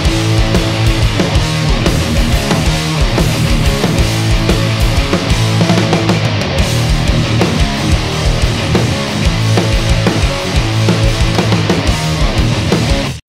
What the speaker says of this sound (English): a good sounding snare track, with a linear phase EQ